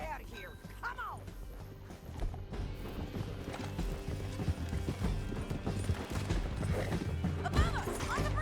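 Horse hooves clip-clop steadily in Red Dead Redemption 2, riding along under a continuous bed of game music, effects and shouted dialogue.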